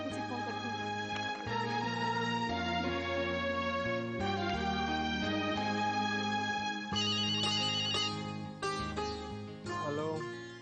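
A phone ringing when a call is placed, a melodic electronic ringtone playing a looping tune of bright tones, steady and fairly close, with no talk over it.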